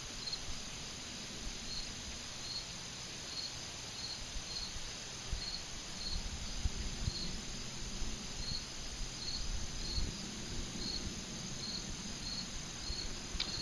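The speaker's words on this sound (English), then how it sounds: "I hear a cricket right now." A cricket chirps in a steady, evenly spaced pulse over a quiet, hissy background, faint and continuous throughout.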